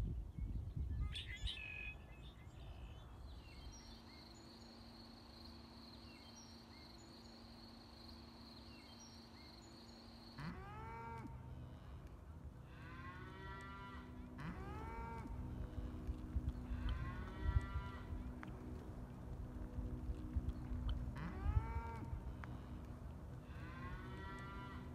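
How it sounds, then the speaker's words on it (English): Outdoors along the Carmel River watershed in California, birds chirp in repeated short phrases against a steady background, with cattle lowing near the start and insects droning faintly. "our bird friends singing to us in the background"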